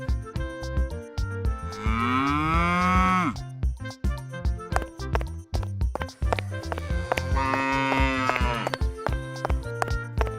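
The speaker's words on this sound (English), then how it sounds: "Cow." A cow moos twice in long, loud, drawn-out calls with falling pitch, repeated over rhythmic background thumps, in an escape-room guessing game with animal sounds.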